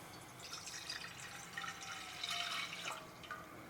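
Two cups of water poured into a pot on a stovetop for kombucha sweet tea, a short splashing, trickling pour that swells in the middle, fairly quiet and close with no voices.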